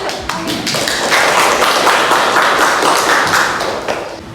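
Applause from a classroom of students during a teacher's performance-assessment lesson, dense and steady clapping at close range that swells and lasts the full few seconds, with no talking.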